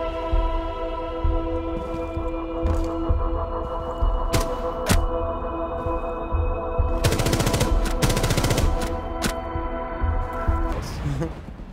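Rapid automatic gunfire in the video game Rainbow Six Siege, with bursts of fast shots over a droning hum, then a dense loud stretch of firing and an explosion-like burst, with talk over it.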